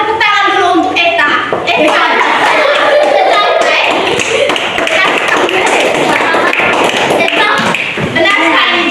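Primary school pupils clapping in a classroom during a lesson, loud, close rapid hand claps running throughout, with children's voices talking and calling out over them.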